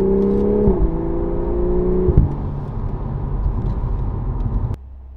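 A Toyota A91 Supra's engine revs hard and climbs in pitch, then drops twice in quick gear shifts before settling into a loud, close, steady drone that cuts off abruptly near the end.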